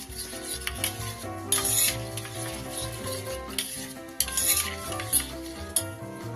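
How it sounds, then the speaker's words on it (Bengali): Spices, curd and mustard oil being mixed together for doi ilish, with steady stirring and scraping in a bowl, a few brighter clinks of a utensil against the rim, and no talking. "এবার খুব ভালো করে এটা মিশিয়ে নেব।"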